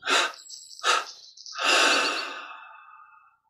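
A deep exhalation released in three parts during guided Kriya Yoga breathing: two short puffs followed by one long, fading breath out, close and clear with no talking.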